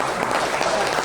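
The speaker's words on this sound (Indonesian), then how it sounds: "Kita kasih aplaus dulu." Dense applause from an audience at an International Migrants Day gathering, steady and fairly loud throughout, with speech mixed in.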